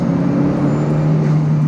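A McLaren Speedtail at speed, heard as a loud, steady cabin drone with a strong low hum and a broad road-and-wind roar that holds constant throughout, with no voices.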